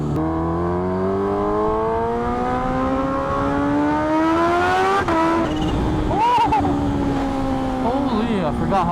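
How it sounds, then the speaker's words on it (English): A superbike accelerates hard, its engine note rising steadily through the gears, then dropping at a shift and climbing again, loud and close throughout with a person talking over it. "I forgot how hard this bike pulls. This thing is fast, man."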